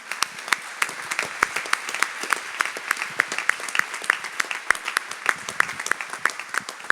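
An audience applauds warmly, many hands clapping in a steady dense patter with sharper individual claps standing out, sustained throughout at moderate loudness.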